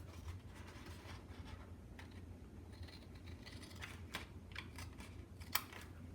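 Scissors trim planner stickers in quiet, close snips and light paper rustles, a few crisp cuts standing out, with no talking.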